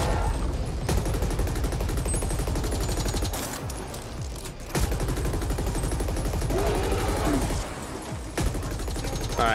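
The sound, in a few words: gunfire from enemies in a top-down shooter video game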